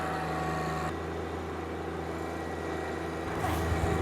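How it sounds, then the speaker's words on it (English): An older John Deere 4310 compact tractor engine of about 31 horsepower runs at a steady low idle throughout, moderately close, with a slight change in tone near the end. "The new tractor on the scene is a 4310, older tractor."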